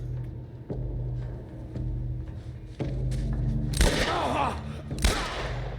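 Two sharp gunshots in The Last of Us Part I crack out over a steady low droning background, with soft thuds earlier.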